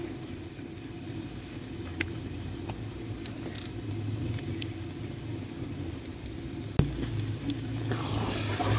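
Grated carrots sizzle as they roast in ghee for gajar ka halwa, a faint steady hiss and crackle with occasional stirring knocks, ending with a brief louder clatter.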